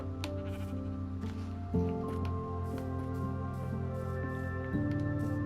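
Baby sheep bleats from Minecraft play over a steady tonal music backdrop, several short cries scattered through the clip.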